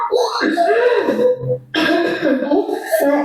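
A person coughs hoarsely several times in a close burst, pauses briefly, then coughs again in a second harsh fit.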